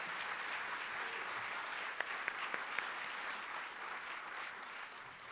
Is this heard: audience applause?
yes